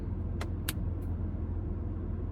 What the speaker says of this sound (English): Car's making a weird noise.